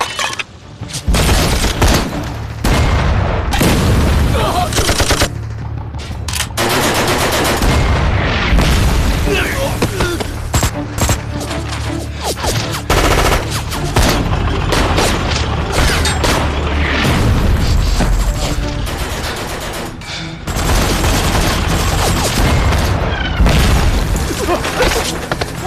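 Booming explosions and bursts of gunfire in a Korean War battle film, loud and dense, with short gaps between barrages and shouted voices mixed in.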